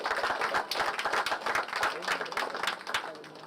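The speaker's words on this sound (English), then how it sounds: "Let's give a big round of applause to everyone who contributed to" Audience applause at the closing of the KONVERGE 2025 conference, a dense, steady wash of many hands clapping that holds throughout, with a faint murmur of voices underneath.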